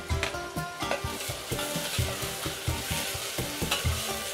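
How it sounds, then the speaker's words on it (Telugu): Sliced onions for a mutton curry sizzle in a pan with cinnamon and cardamom, crackling steadily while a utensil stirs and scrapes in a regular rhythm close by. "చీల్చుకున్నవి వేసుకుంటున్నాను. ఇవి గోల్డెన్ షేడ్ వచ్చే వరకు వేయించుకోవాలి."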